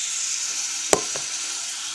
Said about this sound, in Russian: Лук жарен на сильном огне до золотистости.